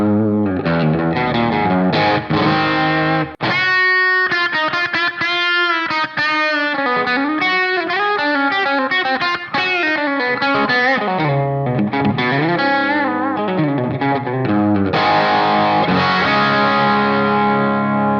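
An electric guitar plays a continuous melodic passage through a Line 6 HX Stomp using multi-mic impulse responses blending 421 and 57 microphones on one speaker, loud and sustained with effects, no talking.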